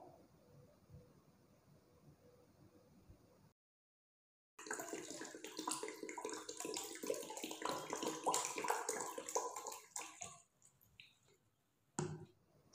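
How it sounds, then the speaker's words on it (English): Water pours from a one-liter bottle into a bucket in a steady, splashing gush after a short pause, close and clear, tapering off with a final trickle and splash. "Again I pour 1 liter more water in this bucket."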